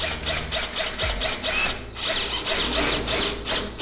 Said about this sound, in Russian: Как видите, сверлится оно очень просто.